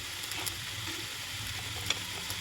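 Tomatoes and onions fry with salt in a pan, making a soft, steady sizzle at moderate distance with a faint stirring scrape and no voices.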